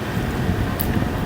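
Steady, loud wind rumbles and buffets the microphone at Balagbag, Real, Quezon, a dense continuous roar with no pauses.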